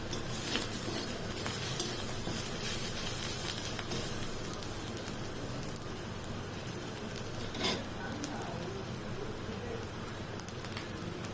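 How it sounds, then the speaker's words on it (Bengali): Chopped ginger and garlic frying in ghee, a steady close sizzle with occasional stirring scrapes and louder crackles throughout. "আদা কুচি রসুন কুচিটা একটু ভেজে নেবে ঘি দিয়ে"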